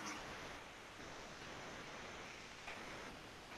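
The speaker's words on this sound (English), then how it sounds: "What do you guys think of the water in the background? I got a sound machine going." A sound machine plays ocean water sounds, a steady, even wash of surf-like noise that fills the background at constant volume with no talking over it.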